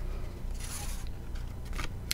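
Scissors cut through card in a few quiet, close snips and slicing strokes against a low background hum.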